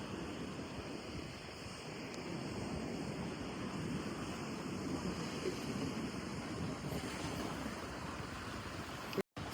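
Sea waves churn at a port, a steady wide roar of surf and wind that holds an even level for several seconds before cutting out abruptly at the very end.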